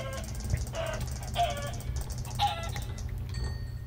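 A chicken in the Minecraft video game clucks several times in short, evenly spaced calls over a low, steady background hum, with no speech.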